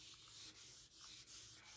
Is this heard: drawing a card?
no